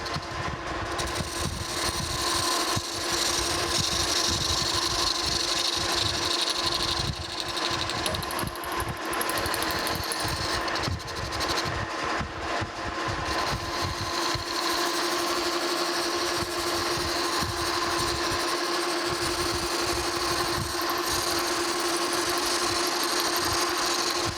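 A metal lathe faces off a rough cut on a gear blank, giving a steady, fairly quiet mechanical hum with a constant whine and a faint scraping texture underneath, continuous throughout with no speech.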